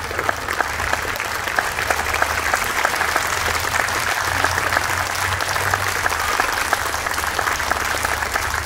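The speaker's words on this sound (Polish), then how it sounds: "Wielkie, wielkie brawa dla orkiestry, dla pani dyrygent, dla artystów." Sustained, dense applause from an outdoor opera audience in Krościenko nad Dunajcem, clapping for the orchestra, the conductor and the performers, loud and steady throughout with no break.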